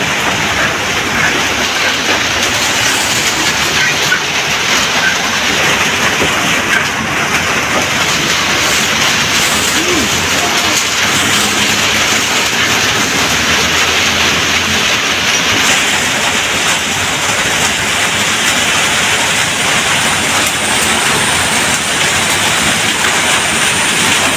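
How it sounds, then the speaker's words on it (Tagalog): Heavy typhoon rain (Typhoon Opong) roars in a dense, unbroken wash at a house being flooded, loud and constant throughout, with no voices and no pauses. "lakas na ulan"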